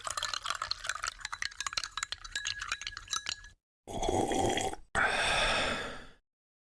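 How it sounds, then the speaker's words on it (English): Eating sounds in an indie horror video game: rapid wet chewing and clinking smacks for several seconds, then two dense bursts of slurping or gulping separated by brief silence, moderately loud with no talk. "this game's really leaning into the eating sounds, huh?"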